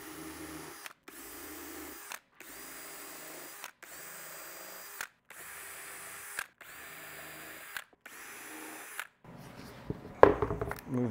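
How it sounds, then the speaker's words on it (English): Power drill countersinking screw holes in wood while building a DIY composting toilet, seven or eight short, steady whirring bursts separated by brief pauses, close and clear, ending in clattering handling noise. "I can countersink these now"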